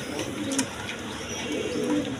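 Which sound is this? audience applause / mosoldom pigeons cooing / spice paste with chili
mosoldom pigeons cooing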